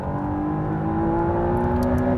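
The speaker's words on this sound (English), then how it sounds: "No, I got to downshift and floor it." A 2024 McLaren Artura, a 3-liter twin-turbo V6 hybrid supercar, downshifts and accelerates at full throttle, its loud engine note climbing steadily in pitch from inside the cabin.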